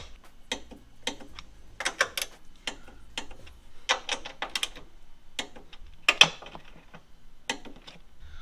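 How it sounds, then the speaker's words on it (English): A torque wrench tightens the nuts on a strut bar of a Honda Civic Type R, producing rapid ratcheting clicks in several short bursts separated by brief pauses. "So we got our torque wrench set to 46 foot-pounds."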